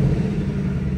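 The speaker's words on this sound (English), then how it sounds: "let's give it a couple revs" A 2021 Ford Mustang GT with the 5.0 V8, automatic, and active exhaust, revving briefly; a close, steady low rumble with no talk.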